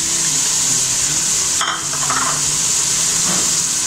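Carrots and capsicum stir-frying in a pan for spicy Chinese rice, a loud steady sizzle with a brief scrape of stirring partway through, close and continuous with no talk.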